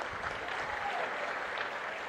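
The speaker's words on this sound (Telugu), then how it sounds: "గట్టిగా చప్పట్లు కొట్టి అభినందించండి ఆయన్ని" A crowd at a Chandrababu face-to-face meeting on rural local bodies and panchayat raj issues claps in appreciation: a steady, dense wash of applause, moderately distant.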